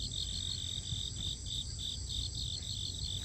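Crickets chirp in a steady, rapid pulsing trill, fairly quiet, repeating evenly over a soft background hum.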